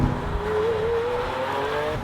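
A 2016 Lamborghini Aventador LP700 Roadster's engine holds a loud, steady, high-pitched wail close by for about two seconds, the tone sliding slightly up as it pulls.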